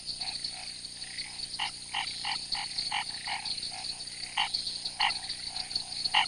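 A chorus of frogs calls in the rainy Pantanal wetland, with repeated bright croaks and trills pulsing at an uneven rhythm over a steady insect-like drone, fairly close and clear with no voices.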